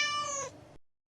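A cartoon kitten gives a single short, high, tonal meow, close and clear, that ends abruptly into silence.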